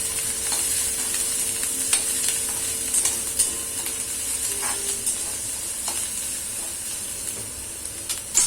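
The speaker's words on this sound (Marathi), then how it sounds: "नंतर परतून घ्यायचं थोडंसं।" Vegetables being stir-fried in a pan for egg fried rice, giving a steady loud sizzle and hiss with occasional scraping stirs, continuous throughout with no voices.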